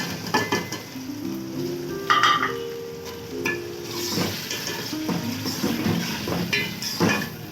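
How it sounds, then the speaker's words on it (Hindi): Chicken goes into a pot of browned onions for Afghani pulao, sizzling and frying while a spoon stirs and clinks against the pot, close and steady. "प्याज हमारे ब्राउन हो चुके हैं। अब इसमें चिकन जाएगा।"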